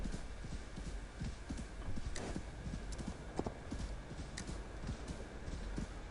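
A horse gallops uphill in the video game Assassin's Creed Valhalla, with steady rhythmic hoofbeats clip-clopping over a constant background hum for several seconds.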